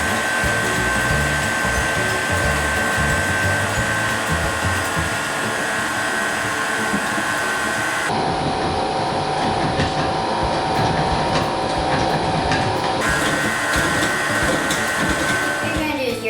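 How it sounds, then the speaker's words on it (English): An electric mixer beats cupcake batter as dry ingredients go into the wet, giving a loud, continuous motor whir that shifts pitch midway and then settles back. "you're gonna mix your dry ingredients into the wet ingredients while it's stirring"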